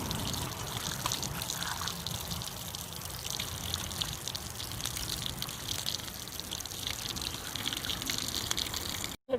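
Cut potatoes for South African slap chips or french fries being washed in water, a steady gushing and trickling splash that runs continuously and fairly loud, with no talking.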